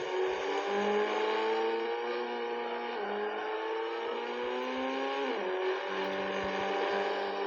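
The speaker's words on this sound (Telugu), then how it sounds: "ఏం కార్లు రా బాబు, తెగ తిరిగిపోతున్నాయి." Small model cars whine and rev steadily close by on a wet, slippery surface, a continuous buzzing motor drone that dips and climbs in pitch as they circle around.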